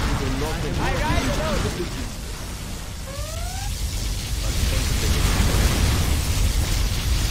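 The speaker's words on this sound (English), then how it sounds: "Particle cannon activated." A particle cannon fires its laser in the game C&C Generals Zero Hour, heard as a sustained roaring, crackling blast with rising whines near the middle. Game voices speak over the noise.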